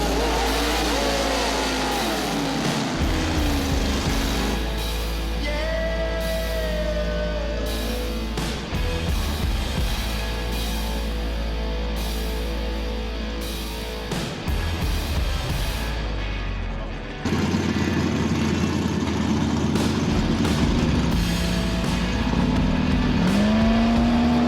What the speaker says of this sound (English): Race 6 is Joey B in the Camaro versus Lieutenant Dan in the green Mustang.